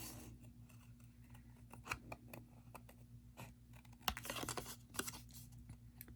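Scissors snip through paper cards at close range, a series of crisp, irregular cuts and rustles of the card stock, quiet and alone with no talking.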